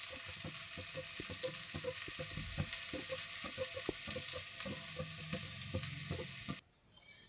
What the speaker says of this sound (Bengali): এখানে আলুগুলো বেশ লাল লাল করে ভেজে নিচ্ছি